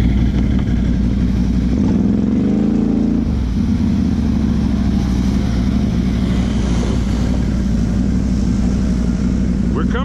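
A Can-Am Outlander XMR 1000 and a Polaris Sportsman Highlifter 1000 ATV engine drone loudly and steadily through rough terrain, with a brief surge and rev early on, and clattering beneath the constant roar.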